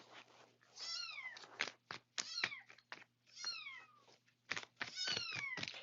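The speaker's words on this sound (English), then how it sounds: "Can you hear the kittens?" Several kittens meow in repeated, rising-and-falling high cries, some overlapping, with short pauses between bursts, fairly close and alone over a faint steady hum.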